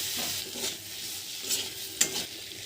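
Chopped tomato and spices with a little water sautéing in a pan for a Bengali prawn and potato curry, a soft steady sizzle with a few spoon scrapes and clinks, no speech.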